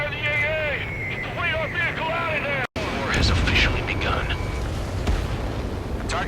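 Anti-aircraft fire in Ace Combat 7 booms and crackles loudly and continuously under radio chatter and voices, with a brief cut partway through.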